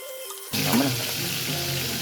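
Water from a faucet suddenly gushes on after a brief near-silent moment, then keeps up a steady splashing hiss at close range.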